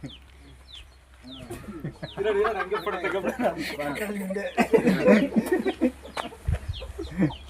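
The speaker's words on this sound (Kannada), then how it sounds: "ಕೋಳಿಗಳನ್ನ ಫುಲ್ ತೋಟನೆಲ್ಲ ಸುತ್ತಾಡಿ ವಿಡಿಯೋ ಮಾಡಿಕೊಂಡು ನಿಮಗೋಸ್ಕರ ಈ ವಿಡಿಯೋ" Chickens cluck and chirp around a farm garden, short calls scattered throughout at close range, while people talk and laugh over them for much of the time.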